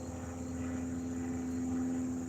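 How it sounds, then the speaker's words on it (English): A propeller plane performing aerobatic spins and twirls drones faintly overhead above an outdoor fire pit, a steady distant engine hum with a sustained tone throughout. "There's a plane up there doing twirls."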